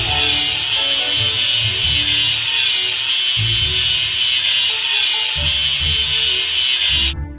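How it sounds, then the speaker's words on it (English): An abrasive power tool grinds steadily and loudly at a welding seam on a ship, a harsh high-pitched whir that continues almost unbroken before stopping abruptly at the end. "Let's sand the welding seam."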